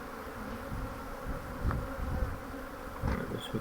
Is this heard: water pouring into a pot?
no